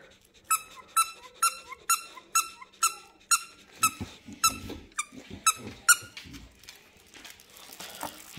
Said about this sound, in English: It's a dog squeaker toy.